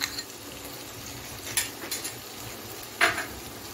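Spice paste with garlic sizzles in a pan on a medium flame for Bengali steamed egg kalia, while a spatula scrapes faintly against the metal in a few short strokes over a low background hiss.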